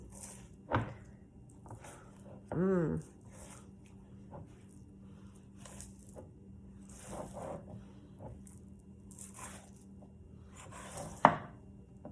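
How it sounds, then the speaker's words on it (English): A knife trims fat from a rack of lamb in a few sparse, soft cuts and scrapes, with long quiet gaps and a slightly louder slice near the end. "So I may just cut this off completely"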